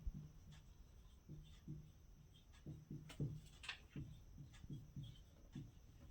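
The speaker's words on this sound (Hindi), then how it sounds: "त्रिकोणमिति को लिखते हैं हम" Chalk or pen strokes writing the word for trigonometry during a class ten maths lesson: faint, uneven scratchy strokes over a low steady hum, with no talking.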